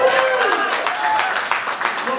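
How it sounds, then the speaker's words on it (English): An audience at a ballroom event in New York City claps for Pepper LaBeija, a dense run of applause under a tonal voice that carries over the clapping throughout. "We'll clap for Pepper LaBeija"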